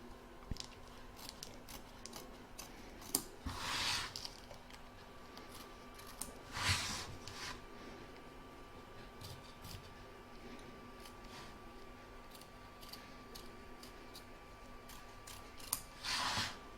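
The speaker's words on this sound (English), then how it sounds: "I'm just going to lift it so that I can get my scissors underneath, and then just cut it away." Scissors snip away embroidery stabiliser around an in-the-hoop contactless bank card holder, giving quiet crisp cuts with three louder rustling bursts spread across a faint, steady background.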